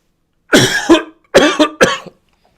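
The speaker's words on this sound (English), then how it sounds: "I'm having a coughing fit." Three harsh, close coughs from a sick man at a press conference, in quick succession, each a short rough burst, separated by brief silences.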